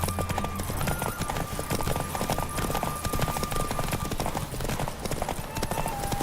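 Rapid hoofbeats of a horse galloping in The Witcher 3 pound steadily and loudly throughout, a continuous clip-clop rhythm with rushing wind and game music beneath, and a voice speaks over it briefly.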